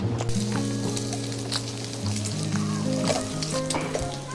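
Garlic and chili peppers frying in a pan beside pork belly at a campsite, a steady broadband sizzle running the whole time with overlapping tonal hums and small clinks, no speech.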